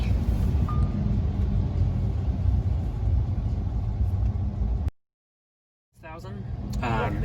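A Lamborghini engine idles while warming up, a steady low rumble close by, cutting out for about a second before the drone returns.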